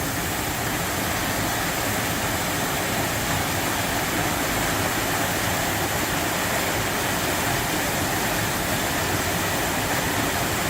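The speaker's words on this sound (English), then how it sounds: "What a beautiful waterfall." A forest waterfall along a back road roars steadily and close by, a constant broadband rush of falling water with no breaks and no talk over it.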